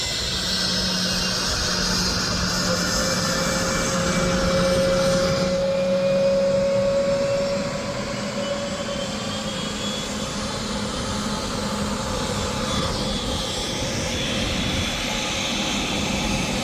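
A Boeing 717-231 jet airliner at Roanoke airport produces a steady, loud engine roar with a sustained whine, holding for the whole stretch and easing slightly partway through as the aircraft moves.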